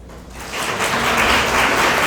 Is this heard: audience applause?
yes